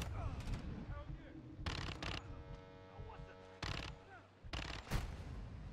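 Gunfire in Call of Duty: Modern Warfare II comes in several short, sharp bursts of shots against a busy in-game background of movement and ambience.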